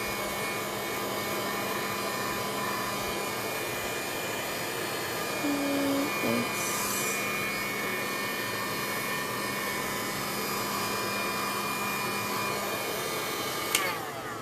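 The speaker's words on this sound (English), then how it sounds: "you can always speed up the drying process using heat gun" A heat gun blowing steadily while drying a mixed media oval canvas, a continuous loud whooshing drone that holds an even level throughout with faint brief clicks.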